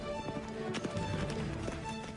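Horses galloping between relay stations, hooves clip-clopping in a steady, fairly close patter over a constant wash of background noise and music.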